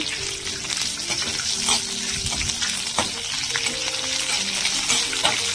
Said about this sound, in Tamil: கருவேப்பிலையும் போட்டு வதக்கிட்டு